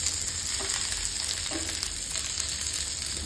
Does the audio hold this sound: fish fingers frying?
yes